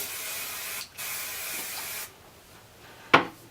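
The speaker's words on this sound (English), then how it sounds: "just take your extra body hairspray, dip your head upside down" Aerosol hairspray gives one short, close, sharp spray burst near the end, after a stretch of steady hiss and quieter room sound, with nobody speaking.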